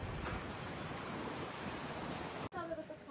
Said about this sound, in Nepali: हावा चलेको हेर्नु न